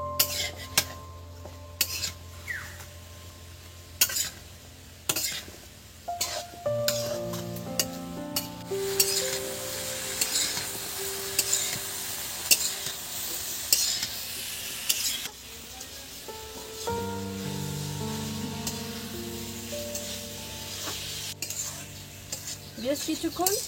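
Mixed vegetables sizzling in a hot pan while a spoon scrapes and stirs them, with metallic clinks of utensil on cookware recurring throughout, close and fairly loud with no talking.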